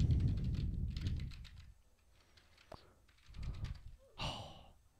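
Close computer keyboard typing in a few quick bursts at a desk, interleaved with heavy sighs and breaths during game development work, with a sharp isolated click partway through.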